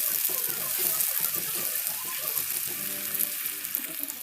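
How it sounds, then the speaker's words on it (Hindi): Onions fry in oil with whole garam masala (cinnamon stick, cloves, black peppercorns, black cardamom) for aloo matar salan, a dense continuous close sizzle with light stirring underneath, no voices. "अब इन तमाम गरम मसालों को हम प्याज के साथ ही फ्राई करेंगे।"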